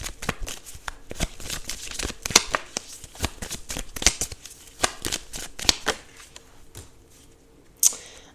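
A deck of oracle cards is shuffled in quick, crisp riffles and slaps, a rapid run of sharp close bursts that thins out toward the end. No one speaks.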